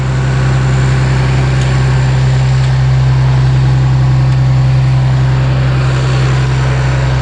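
A Cummins ISC 8.3 liter turbo diesel in a 2006 Blue Bird All American school bus idles steadily and loudly, a constant deep low rumble with a faint hiss above it and no voices.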